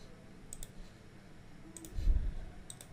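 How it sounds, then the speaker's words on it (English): A computer mouse double-clicked to extract a zip file, with sharp, faint clicks standing out in a quiet room. "Just double click it to extract this zip file."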